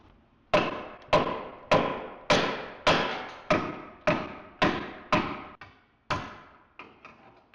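Hammer blows strike a car part about a dozen times in a steady, evenly spaced rhythm, each a loud close metallic thud that rings and fades before the next, with no talking, while working on a salvage-auction flip project car.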